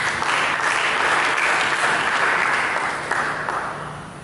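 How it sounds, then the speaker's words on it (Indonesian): A church congregation at a Sunday service claps together in a steady, dense wave of applause that holds for several seconds and then tapers off toward the end, with no voices over it. "Kita berikan tepuk tangan bagi kita."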